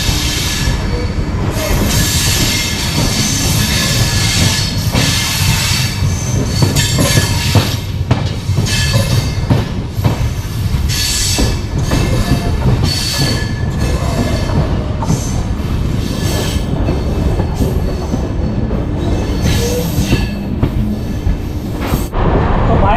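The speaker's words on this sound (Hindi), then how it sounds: "साहब ट्रेन निकल चुकी है सीतापुर से और हम बैठे हुए हैं स्लीपर क्लास पे।" A passenger express train with new LHB coaches rolls along steadily, heard from inside a sleeper-class carriage as a loud, continuous rumble with rhythmic wheel clatter and faint squeals throughout.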